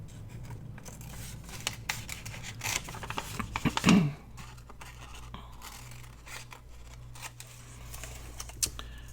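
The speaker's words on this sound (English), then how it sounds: "let's go ahead and cut these corners off" Scissors snipping corners off paper for vellum and book-page craft pockets, giving a few close, crisp cuts and one louder snip over faint handling rustle.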